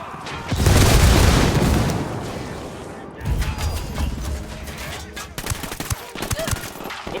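A frag grenade explodes in the video game Ghost Recon Wildlands with a loud, close boom that rolls on for about two seconds, followed by a second rumbling blast and scattered crackling gunfire-like bursts.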